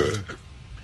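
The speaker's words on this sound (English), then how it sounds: "All right, now is the burp." A loud, close burp right after chugging a 2-liter bottle of Coca-Cola, with a strong opening burst that tapers into a rumbling tail lasting under a second.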